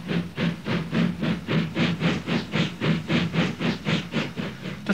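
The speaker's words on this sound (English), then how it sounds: "as the trains puffed through the English countryside" A steam locomotive puffs through English countryside with loud, evenly spaced chuffs, about three a second. Each exhaust beat is a hissy burst above a steady low rumble.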